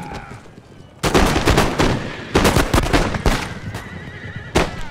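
Cavalry horses and cannon fire in an Empire: Total War battle, a Prussian campaign, with loud, dense booming volleys crashing in at intervals over a continuous roar of battle noise.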